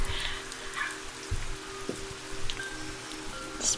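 A recording of rain plays quietly in the background of a warm, humid room, a soft continuous patter and hiss with a few faint clicks and knocks, and no one talking.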